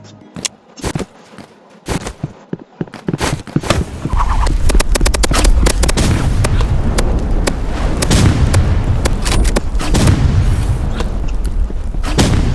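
Gunfire from a sniper rifle in the Roblox video game: sparse sharp shots at first, then a loud continuous barrage of rapid cracks and booms that fills the rest of the stretch without pause.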